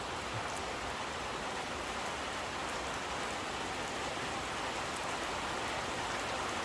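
Steady rain from a moderate thunderstorm near Grenoble in the Alps hisses evenly throughout, a constant wash of drops without pause, fairly soft and unbroken.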